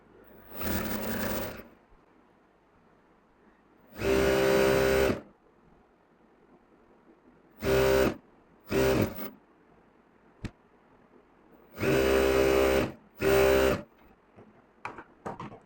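A sewing machine stitches a trouser leg in six separate runs of loud, close, rapid whirring, one to two seconds each, with quiet pauses and a few small clicks between them.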